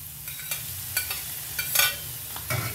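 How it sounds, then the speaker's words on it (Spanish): Onion goes into a pan of sizzling fried chorizo, with a low steady frying hiss and several short scrapes and clacks of a spoon stirring. "Ya que esté el chorizo así sofrito, le agrego la cebolla y los demás ingredientes."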